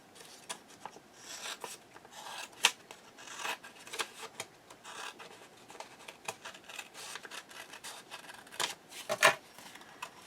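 Scissors snipping paper for a bird-watcher journal cover, soft scattered cuts and rustles with brief sharper snips, faint and close, no voices.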